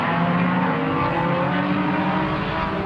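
A Honda safety car leads the vintage race field at Sebring, its engine a steady, loud broadband roar with a constant low hum throughout and no talk.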